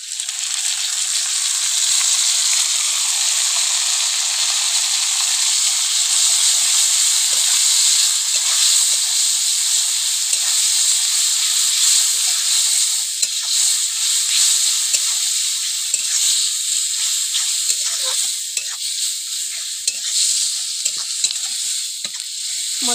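Onions and masala sizzle steadily in a hot pan, a loud, continuous close-up hiss of frying with occasional stirring scrapes and no talk.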